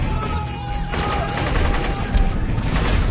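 Rapid gunfire rattles against the Iron Man armor in a film scene, a dense stream of shots and metallic impacts building in intensity, with a thin high whine early on.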